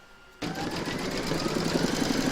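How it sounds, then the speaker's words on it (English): An embroidery machine stitches a design in the hoop, an in-the-hoop stacked snowman, starting abruptly after a quiet moment, then running as a steady, fast mechanical whir with a regular rapid needle tick, close and alone. "Pop your hoop back into your machine and stitch round number 3 to secure it."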